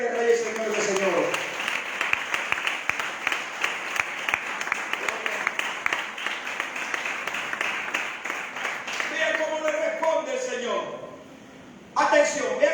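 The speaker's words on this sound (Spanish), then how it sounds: "Denle un aplauso al Rey de Reyes, Señor de Señores." A church congregation claps in a long, steady round of applause, with a preacher's voice heard over it; the clapping thins out toward the end and then swells again.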